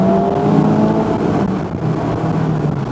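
A Mazda MX-5 RF with the 2.0-litre engine, a 2021 roadster, runs with a loud, steady engine drone that swells and eases slightly as revs rise, heard close and alone for a few seconds.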